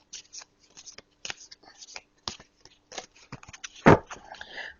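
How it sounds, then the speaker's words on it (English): Tarot cards are shuffled by hand nearby, giving a string of short crisp riffles and taps in an irregular rhythm, ending in a louder flurry of card noise, with no talk. "I'm just putting them back in because I hadn't finished shuffling them"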